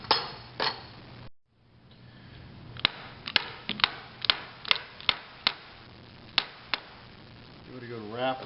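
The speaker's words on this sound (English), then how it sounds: "Give it a good wrap with the lead hammer." A lead hammer raps an Aloris BXA tool post clamped tight in a vise on a Rivett 1020 lathe, giving about a dozen sharp metallic taps in an irregular rhythm, with a few quiet words near the start.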